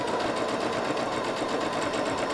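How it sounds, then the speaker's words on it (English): A sewing machine stitches an elastic channel along a lace scrunchie, a steady, close, rapid mechanical whirring with no pauses. "So just sewing all the way down once and then twice."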